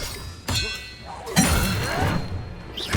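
The Expelliarmus spell from the Hogwarts Legacy video game lands in loud clanging, whooshing bursts, one sharp hit near the start and a longer crashing, shimmering effect after it, with game combat sounds around it.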